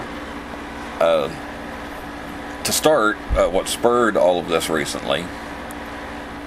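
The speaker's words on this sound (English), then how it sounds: "sorry for the background noise, but it's hot and I ain't turning the air conditioner off." A room air conditioner running as a steady low hum and whoosh throughout, under someone talking close to the microphone.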